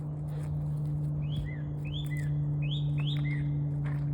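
Several short chirps from a small bird ring out outdoors in a quick, irregular series, clear but moderately distant over a steady low electrical hum.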